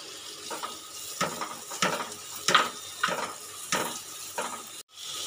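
Ginger garlic paste and chopped tomato are stirred in a frying pan for egg curry: a soft sizzle runs underneath repeated scraping strokes of a spoon, about one every half second, close by with no talking.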